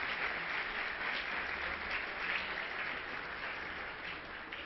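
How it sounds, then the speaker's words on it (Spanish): Steady, dense applause from an audience at a pastoral-care conference talk in Colombia, honoring a diocese for training sixteen priests; the clapping holds evenly throughout and tapers slightly near the end, with no voices over it. "Sí, merecen un aplauso"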